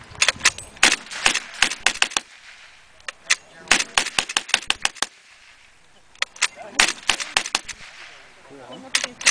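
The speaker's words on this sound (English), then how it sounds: "It's actually more difficult to get a gun to run with blanks than it is live ammunition." A WW2 automatic gun firing blanks at a living-history event, sharp bursts of rapid loud reports broken by short pauses, heard outdoors at moderate distance.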